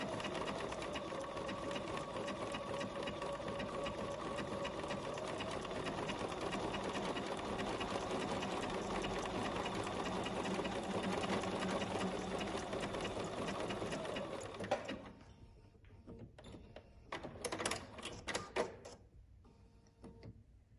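A sewing machine runs steadily for about fifteen seconds stitching decorative stitches on a bag, a loud continuous mechanical whir that stops abruptly and is followed by a few short bursts of stitching.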